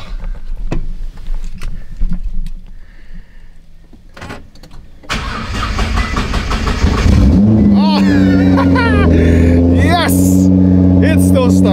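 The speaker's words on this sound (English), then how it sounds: "Hopefully this car starts." A Nissan GT-R with a widebody project cranks with a short whirring starter, then catches and fires into a loud, rumbling idle that settles into a steady, droning engine note, preceded by some clicks and shop noises.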